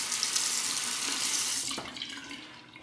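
Hot water runs from a tap over an Alpha Viper razor handle with a Mula R89 head, a steady close splashing stream that shifts slightly as the razor moves under it.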